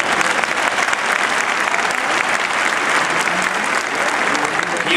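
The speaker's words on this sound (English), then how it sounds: "yeah, you should clap for that." Sustained audience applause at a spring graduation ceremony at Southern University, broad and loud throughout, with a few cheers mixed into the clapping.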